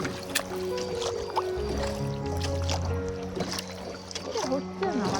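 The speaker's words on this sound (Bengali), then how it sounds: "আমরা সবাই একটু বয়স্ক মহিলাকে নৌকা চালাতে হেল্প করলাম।" A rowboat is paddled along the water at Trang An in Ninh Binh, Vietnam, with soft, quiet splashes and gurgles of the oar under background voices.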